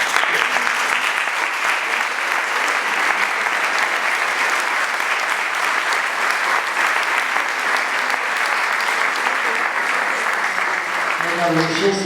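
A large audience applauds nursing school students with long, sustained, even clapping that holds steady for about twelve seconds, as a voice begins to speak near the end.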